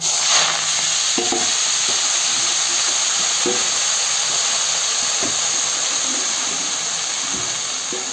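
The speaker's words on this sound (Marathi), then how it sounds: "हे बघा फोडणी घालते" Spices for tempering hit hot oil while harbhara (green chickpea) greens are cooked, making a loud, continuous close-up sizzling hiss with occasional soft clicks of stirring underneath.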